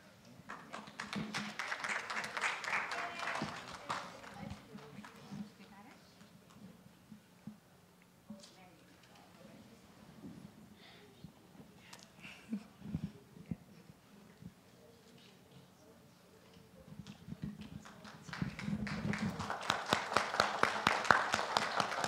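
Applause for new inductees at a Kissimmee Parrots induction service, a burst of clapping at the start and a louder, denser round near the end, with talk and quieter room noise in between.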